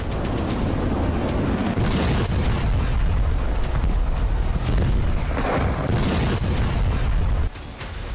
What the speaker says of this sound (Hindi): तेहरान में धमाके हो रहे थे